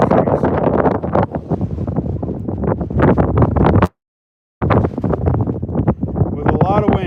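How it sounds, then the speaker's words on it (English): Strong, continuous wind buffeting a microphone beside the water while fishing for hatchery-stocked rainbow trout, a loud broadband roar with gusty surges and a brief cutout partway through. "With a lot of wind."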